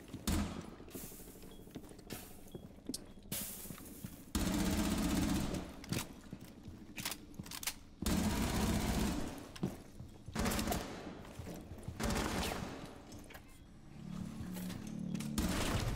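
Gunfire in a Ubisoft first-person shooter, loud bursts of rapid shots that come in separate volleys with short quieter gaps, close and harsh, with no talking over it.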